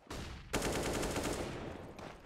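Rifle spray fire in Counter-Strike on the Dust 2 map, a short burst, a pause, then a longer stream of rapid automatic shots, fairly quiet overall with no voices.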